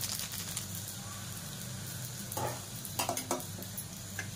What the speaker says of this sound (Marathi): खसखस छानपैकी अशी भाजून घेऊया